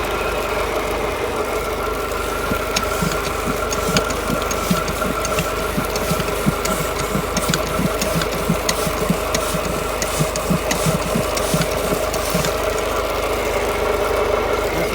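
An engine powering an irrigation pump runs steadily after being put in gear, a loud droning hum with a rapid knocking pulse throughout, no voices.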